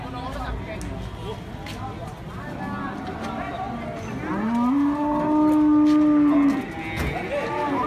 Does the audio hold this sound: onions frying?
no